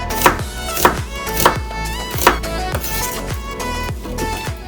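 Knife cutting a bell pepper (paprika) on a cutting board, a handful of separate sharp chops with pauses between them, close and clear over a sustained musical background.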